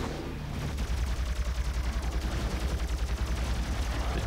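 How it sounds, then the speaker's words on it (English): Rapid plasma rifle fire from the Doom video game, a dense, fast stream of punchy zapping shots pulsing at a steady rhythm, loud and continuous with game noise beneath. "Alright, let's put on the plasma rifle."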